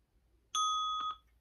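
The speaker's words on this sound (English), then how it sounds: "When you're going to hear the bell, you're going to do a bridge hold." A single bright bell ding rings out clearly with a sustained tone and a quick second strike, signalling the start of a bridge hold in a leg workout, heard alone against quiet.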